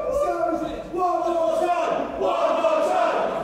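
A wrestling crowd at an International Pro Wrestling event cheers and shouts steadily in support of Sammy Smooth, a dense, sustained roar of many voices with rising swells of yelling.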